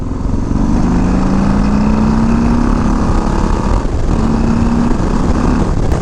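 A Harley-Davidson Low Rider ST motorcycle out on the road, its engine a loud, steady low drone mixed with wind rush and a small shift in pitch as the bike pulls along.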